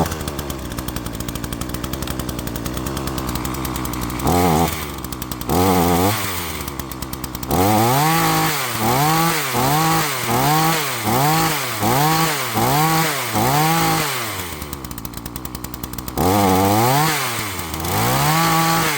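A chainsaw with a freshly oiled but loose chain, used for coppicing hazel in woodland, revs close and loud in a long series of rhythmic bursts, its pitch rising and falling between idle and full throttle.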